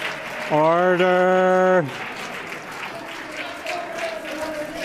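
Legislators applaud in the Manitoba House chamber, a steady wash of clapping under a loud, drawn-out call to order from the chair, then lingering faintly beneath murmuring voices.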